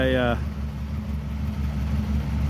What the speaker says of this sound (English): part of my exhaust is rotted away over the winter. But anyway, whatever. It's a 6. It's not that loud